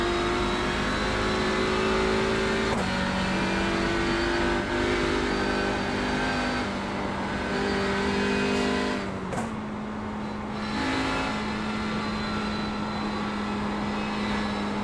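A race car engine in iRacing at Thruxton, a four-hour touring car event, drones loud and steady, shifting pitch as the car accelerates through its gears, with brief dips at gear changes and no voices.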